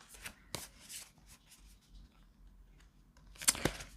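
Tarot cards are shuffled softly up close, with quick riffling bursts and light papery flicks spread across a quiet room. The last flurry is a little louder.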